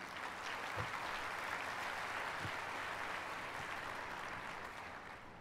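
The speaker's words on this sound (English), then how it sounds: "I think that deserves a round of applause" An audience applauds at a cruise ship naming ceremony for the MSC Seaside at Port Miami, a faint, even clatter of clapping that carries on for several seconds without a break.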